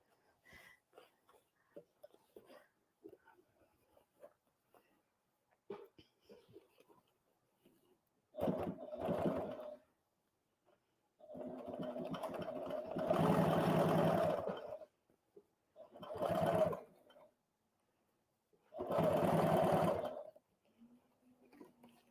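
An HD9 sewing machine stitches leather in four separate loud bursts of rapid mechanical whirring. Quiet gaps sit between them, with faint handling and soft talk.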